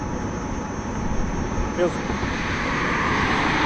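Heavy, steady wind buffeting in the open while riding a Gotway Msuper V3 electric unicycle into a headwind at about 15 mph, a loud continuous low rush.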